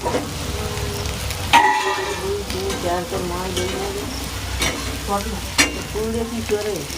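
Vegetables frying in a pan and being stirred with a spatula during festival cooking, continuous sizzling with repeated scraping strokes and occasional clanks, close and fairly loud, with no talk.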